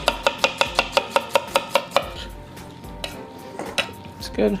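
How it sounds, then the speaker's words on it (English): A knife slices vegetables thinly on a cutting board for a vegan frittata, giving about a dozen quick, evenly spaced chops up close. The chopping then stops and a few scattered kitchen knocks follow, with a brief spoken remark. "we're just gonna slice these thin so that they cook quickly."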